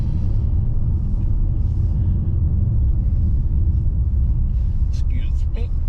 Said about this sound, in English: excuse me, hit this railroad tracks.